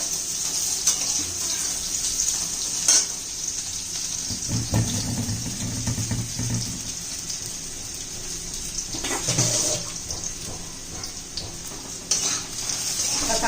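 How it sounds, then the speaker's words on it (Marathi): Raw green mango pieces sautéing in hot oil in a pan for a Marathi mango methamba: a steady soft sizzle with stirring scrapes and brief louder bursts as the pieces are turned. "नंतर त्यात कैरीच्या फोडी घालायच्या आपण चांगल्याच परतून घ्यायच्या त्या तेलामध्ये"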